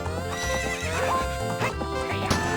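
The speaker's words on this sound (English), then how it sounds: "How did you tame that wild horse right under my nose?" Epona, the horse from the Zelda: Ocarina of Time video game, whinnies loudly over a steady musical backing, with hoof clip-clop mixed in for the whole stretch.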